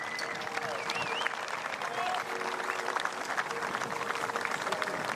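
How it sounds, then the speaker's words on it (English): A crowd claps steadily for a winning cricket team at a medal ceremony, dense continuous applause with a few cheers and whistles over it. "A big round of applause, everybody."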